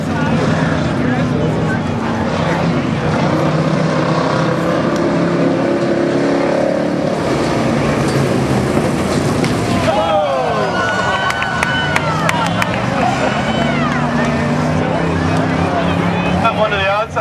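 Pure stock race cars compete in a figure-8 heat at a speedway, their engines droning loudly and steadily throughout, with a rising whine and tire squeal appearing in the second half while an announcer talks over the action.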